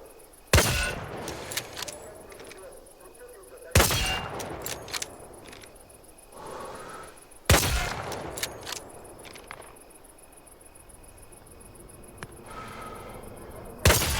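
Three sharp bolt-action rifle shots in Hell Let Loose: Vietnam, evenly spaced about every three and a half seconds, each loud and followed by a ringing tail and faint mechanical clatter of the bolt being cycled.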